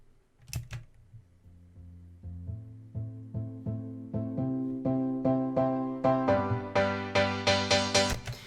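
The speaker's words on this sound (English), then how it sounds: "we have these pianos and this pad building up with a" Repeated piano chords build steadily in a rhythmic pattern over a sustained pad, growing brighter and louder as a cutoff filter opens up.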